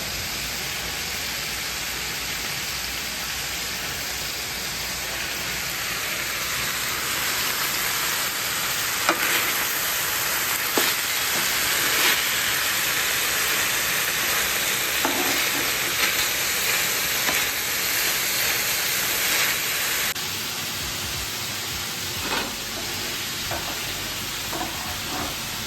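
Roma tomatoes sizzle in a hot pan with pork and peppers, giving a steady, fairly quiet frying hiss with occasional stirring clicks and scrapes, and no talking.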